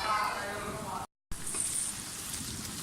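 Okra (bhindi) frying in hot oil for masala bhindi, a soft, quiet sizzling hiss broken by a brief dropout, with a voice talking over the cooking.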